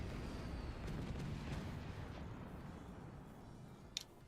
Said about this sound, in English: I just detonated my fucking base